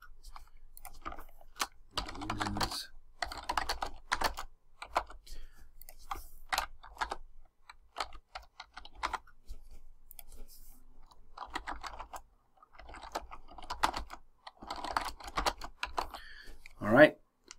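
Keys on a computer keyboard are tapped in quick irregular bursts while a quiz question is entered, close and clear, with a louder clatter near the end.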